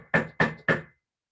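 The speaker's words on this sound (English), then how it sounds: "he knocks on our front door like this" Three sharp, evenly spaced knocks rap on a front door, close and crisp, each ringing briefly before silence follows.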